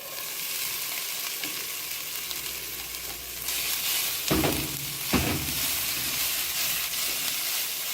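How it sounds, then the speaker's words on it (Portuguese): Soy meat sizzling and frying with pressed garlic in a hot pan, a steady dense crackle throughout with a brief burst of stirring near the middle. "E vamos adicionar a carne de soja."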